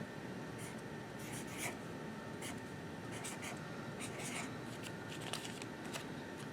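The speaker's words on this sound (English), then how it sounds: "And then I'm gonna write his color." Someone writing a fish's color on paper during a children's craft, a soft scratchy pen-on-paper rubbing in short repeated strokes, quiet and close, with no talk.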